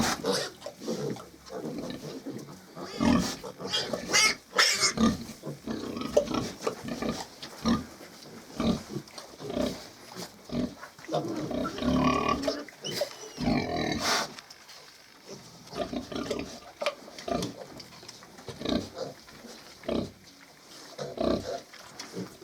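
A sow nurses her piglets in a pen on a small pig farm, with rhythmic grunts and oinks, squeals from the piglets, and occasional rustling, heard close up and irregular throughout.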